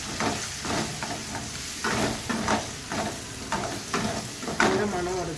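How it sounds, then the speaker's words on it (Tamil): Chilli and coriander powder sauté in oil for a Thanjavur village-style fish curry, with a steady sizzle broken by repeated scraping strokes of a spoon stirring the pan, close and moderately quiet. "கொஞ்சம் வதக்கிக்கிறேங்க."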